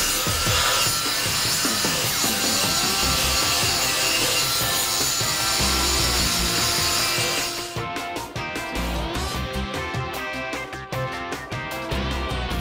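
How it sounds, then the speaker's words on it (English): A loud, continuous abrasive grinding strips mill scale from the beveled edge of a steel plate being prepared for welding. The roar holds steady, then turns choppy and intermittent toward the end. "The idea is to make sure that we're removing all the mill scale from around the beveled edge"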